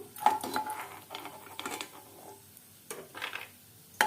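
Flax seeds dry-roasting on a low flame while being stirred in a pan, with intermittent scraping and clinking of a spoon against metal, fairly quiet and close.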